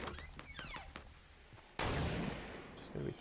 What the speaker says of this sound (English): There is someone shooting at me.